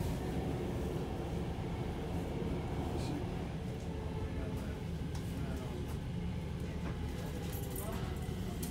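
A Stockholm metro C20 subway train runs with a steady, loud, rumbling roar of wheels and motors that stays constant throughout, with no talk.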